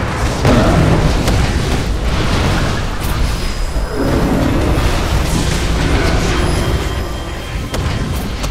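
Loud, continuous barrage of booming explosions and gunfire in a video game firefight, rumbling heavy blasts layered densely with little pause throughout.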